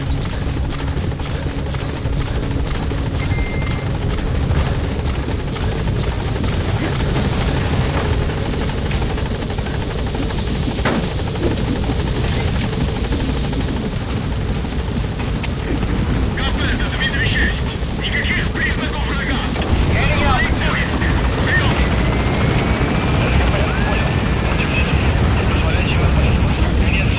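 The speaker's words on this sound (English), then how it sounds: "Support helicopter has arrived." A support helicopter in Metal Gear Solid V arrives with a loud, continuous rotor thrum, and a radio voice briefly speaks over it as the noise swells near the end.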